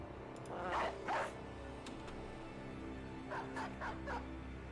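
Dogs bark in short, faint bursts, a pair of yaps early and a quicker cluster of barks later, in the video game Battle Brothers, over a low steady background.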